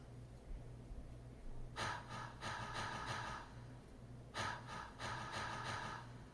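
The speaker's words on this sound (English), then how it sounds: "sample of me taking a breath" Recorded breath sample placed rhythmically in a synth-pop track with light reverb, two pairs of airy breaths repeating at an even pace over a faint, low, steady backing.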